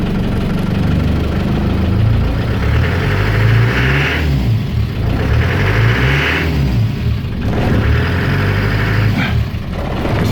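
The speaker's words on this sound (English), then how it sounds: "The idle speed where it is at the moment is a bit wobbly, isn't it?" A 1990 car engine idles unevenly at too low an idle speed, a steady deep rumble that wobbles and surges faintly in a slow rhythm, running alone without talk.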